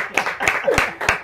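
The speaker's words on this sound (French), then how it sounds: "on applaudit" A studio audience claps in a short burst of sharp, rhythmic hand claps at a French-language radio show, close and lively, with a voice faintly underneath.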